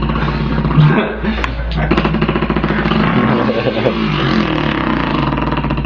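A person vocally imitates a dirt bike engine with a loud, continuous, buzzing and revving drone that holds for several seconds.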